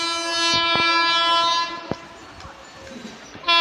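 An Amrit Bharat Express hauled by a WAP-7 electric locomotive sounds a loud, sustained horn blast at close range, then rolls past with a brief clatter as wheels and wagons rumble by, followed by a second short horn toot.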